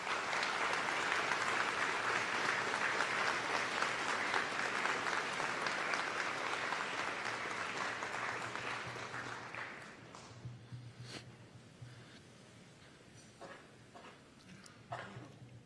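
Graduating seniors give a loud, sustained round of applause to their parents at a high school graduation ceremony, steady dense clapping for about ten seconds before thinning to scattered claps and crowd murmur.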